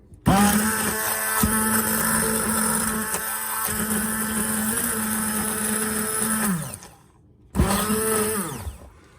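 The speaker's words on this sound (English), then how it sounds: "All right, so I'm taking my stick blender here." A stick blender whirs steadily through chocolate avocado pudding, a loud, sustained motor whine with a bright rattling edge, cutting off briefly near the end before restarting at full speed.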